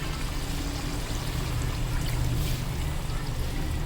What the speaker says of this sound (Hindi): ये देखिए मैं 2 गिलास डाल रही हूँ